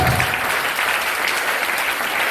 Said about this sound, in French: Est-ce qu'on peut donner une acclamation à notre Seigneur de Jésus?